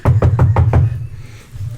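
Five quick, sharp knocks on a bedroom door, loud and close in an even rhythm, followed by a quiet pause and a soft low thump.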